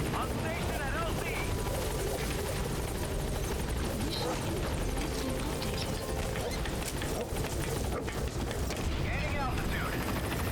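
Helicopter rotor drone from the Metal Gear Solid 5 video game, a loud, steady whir as the aircraft arrives at the landing zone, with gunfire-like bursts and a voice talking over it.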